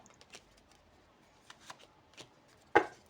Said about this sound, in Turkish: Üstlerine destek kart seçiyorum.